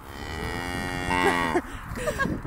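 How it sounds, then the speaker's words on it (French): Cows on a farm give a long, loud, close moo that swells and then drops away, with a second fainter lowing call following. "regardez juste les vaches, elles sont venues nous accueillir"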